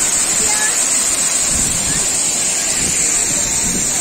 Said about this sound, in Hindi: हम लोग आए हैं अभी काइपो लांगसो वाटरफॉल कार्बी एंगलोंग काजीरंगा में